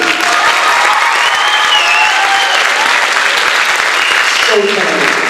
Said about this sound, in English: We have a round of applause for Pat Delaney